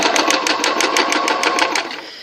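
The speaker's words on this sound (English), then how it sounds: "put another line of stitching in" A sewing machine runs a line of shirring stitches through fabric, a fast even rattle of about a dozen needle strokes, close and loud, slowing to a stop at the end.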